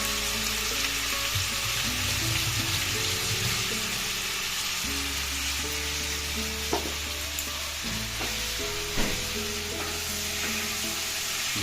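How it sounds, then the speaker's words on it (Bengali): Biryani meat sizzling and being stirred in a hot pan, a steady loud frying hiss with scraping stir strokes and a few sharper clatters, no talking. "বিরিয়ানি মাংস কষা হচ্ছে।"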